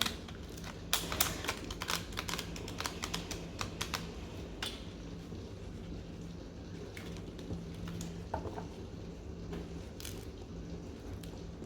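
Very large oracle cards riffle and slap in bursts of crisp clicking and flapping, a near, uneven shuffling with short pauses between runs.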